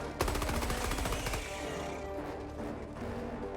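In the Helldivers 2 video game, a weapon set to stun mode fires a rapid burst of sharp crackling shots at close range, then the shots trail off into a quieter electric fizz.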